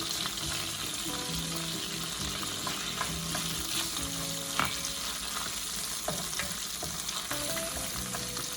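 Onions fry with tender pork for kilawin, a steady loud sizzle with occasional stirring clicks and spatters close by, continuous throughout.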